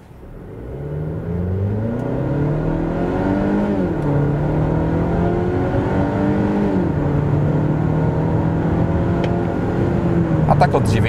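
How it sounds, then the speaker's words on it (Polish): A Volvo XC60 B5 with a 2.0-litre, 250 hp engine accelerates from 0 to 100 km/h. The engine note climbs steadily through several gear changes and stays loud and close throughout, with no talk over it. "W każdym razie tak samochód przyspieszy od 0 do setki."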